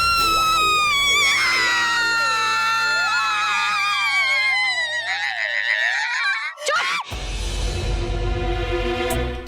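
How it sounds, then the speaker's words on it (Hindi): A woman lets out a long, loud, wavering scream of fright, sustained for several seconds and bending in pitch before breaking off, followed by a dramatic musical hit. "तू क्यों चिल्ला रही है?"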